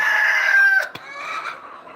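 Chickens cluck and call loudly at close range, one drawn-out tonal squawk followed by a sharp click and quieter clucking, with no talking.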